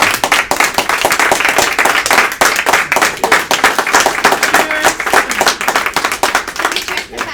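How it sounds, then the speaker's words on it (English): A standing round of applause fills a board meeting of Optimist International, dense steady clapping from a room of members lasting several seconds, with some voices mixed in. "Why don't we all rise and give him a round of applause?"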